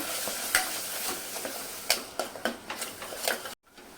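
Ground masala paste frying with softened onion in a pan for mutton curry, sizzling steadily while a spoon scrapes and knocks against the pan in irregular taps, up close with no talking.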